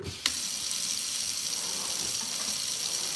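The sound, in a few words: rinsing a hair dye brush under running tap water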